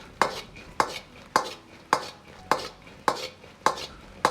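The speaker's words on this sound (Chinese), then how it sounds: "然后倒入炸好的红薯，翻炒均匀" Spatula scraping and tossing fried sweet potato chunks through hot sugar syrup in a wok, seven evenly spaced strokes, close and clear with no talking.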